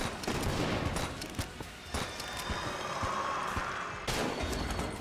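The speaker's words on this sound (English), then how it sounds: "Three shots with the flare gun killing an agonizer is pretty good." A flare gun in the video game Enter the Gungeon fires shots amid a dense clatter of game sound effects, with a few sharp cracks standing out over steady busy noise.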